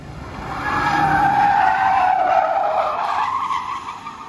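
Toyota Fortuner drifting, a loud sustained tire skid and squeal that swells and slowly fades over several seconds, with engine noise beneath.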